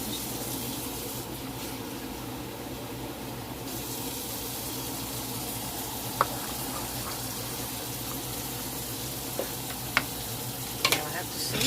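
Gravy sizzling and bubbling steadily in a pan while being stirred, a continuous close hiss with a few soft clinks of the utensil against the pan near the end.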